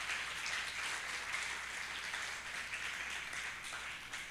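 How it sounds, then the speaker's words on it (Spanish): A church congregation applauds during a Sunday service, a soft, even and continuous spatter of clapping heard at a distance without a break. "Dale un aplauso al Señor por la palabra."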